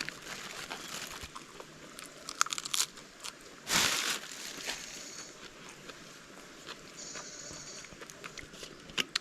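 Crunchy biting and chewing of cold sausage with chili, eaten outdoors in the forest, close to the mouth amid steady ambient noise and a few scattered clicks, with one loud burst midway.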